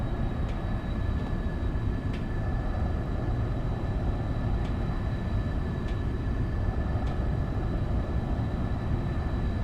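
Boeing 720B jet engines spooling at takeoff power in a flight simulator game, a steady loud broadband roar with a constant high whine and faint periodic clicks throughout.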